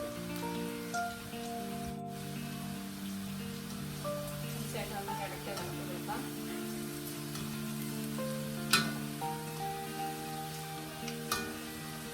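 Tapioca (kappa) slices frying in hot oil, a steady, soft sizzle and crackle running throughout, with a sustained tonal background layered over it.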